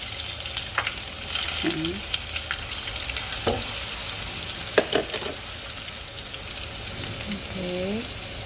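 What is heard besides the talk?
garlic sautéing in a pan after ginger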